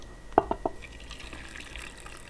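Hot water heating in a pot for hardboiling a big batch of eggs, miked up close: three quick, bright bubbling plops in a row, then a soft, steady simmering hiss.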